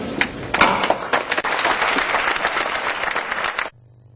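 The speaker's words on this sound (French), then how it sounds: "C'est sous ce tonnerre d'applaudissements que les plus de 900 participants à la 9e session de l'UNESCO de Paris en France ont accueilli" A large audience of over 900 participants at a UNESCO session in Paris bursts into sustained, dense applause for several seconds, then the clapping cuts off abruptly into near silence.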